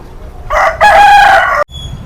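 A country chicken rooster on an organic farm lets out one loud, close cock-a-doodle-doo crow lasting about a second, which breaks off abruptly. Faint background noise is heard before and after the crow.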